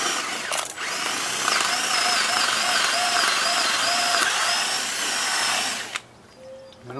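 A power drill runs steadily, boring holes for a bed frame built into a 2017 Dodge Grand Caravan. The motor whine holds loud and constant for about six seconds, then cuts off abruptly into a quiet room.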